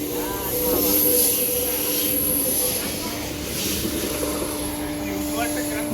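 A train rushes through a small railway station in West Bengal, sounding a sustained whistle over a broad, steady roar that swells and then eases as it passes.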